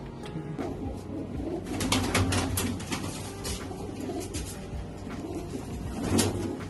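Soft pigeon coos repeat close by over a steady ambient hum, with a few scattered knocks and clatters, and no talking.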